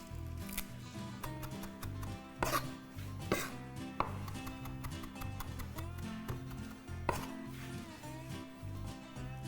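A knife chops parsley for stuffed peppers on a board, fast repeated taps with a few sharper strikes standing out, steady and close over a continuous low background hum.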